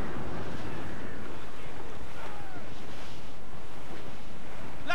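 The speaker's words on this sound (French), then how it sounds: "Le vent est de plus en plus fort." Strong wind rushes while sailing a ship in Assassin's Creed IV, a loud steady roar of gusts and sea spray with water washing against the hull.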